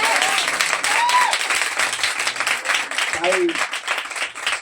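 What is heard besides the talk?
audience applause at prayer meeting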